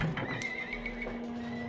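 Horses whinny in an Age of Empires 2 match, a clear high neigh with wavering pitch and faint hoof clatter, close and distinct with little else around it.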